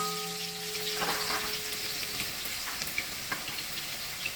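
Garlic sizzles in hot oil with fried onions for chicken chukka, a close, steady crackle with light stirring clicks and a brief tonal hum at the start.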